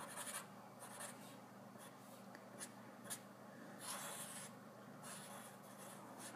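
Pen or marker scratching steadily across paper while an electrical wiring diagram with a keyless bulb holder and 3-way switches is sketched by hand, a soft continuous rasping with brief strokes and lifts, close and quiet, no talking.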